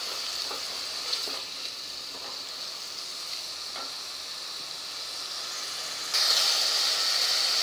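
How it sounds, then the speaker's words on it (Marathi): Chopped onion fries in oil in a pan, giving a steady, close sizzle with faint stirring scrapes. The hiss grows louder near the end as the pan heats further or more is added. No talk is heard. "आता हा कांदा आपण 2 ते 3 मिनटं छान परतून घेऊया तेलात."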